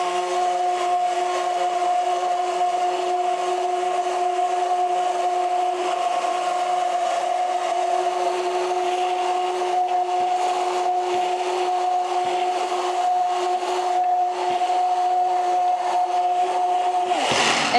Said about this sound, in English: Turning up the speed on my mixer so that we can really get this going.